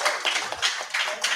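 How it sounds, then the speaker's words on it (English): An audience claps in a brief burst of applause for the Botswana delegation at a human rights and gender equality forum, uneven hand claps swelling and fading over a little more than a second. "Can we give them a shout out and a clap?"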